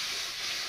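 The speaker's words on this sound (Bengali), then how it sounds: "এটা ভাজিয়ে নিচ্ছি মশলাটা" Ground spice mix sizzles in a pan with a splash of water while cooking for an okra dish, a steady close hiss with no pauses throughout.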